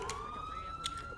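Siren of a state trooper police car during a high-speed chase: a faint, steady rising wail somewhat distant, with a few soft clicks over it.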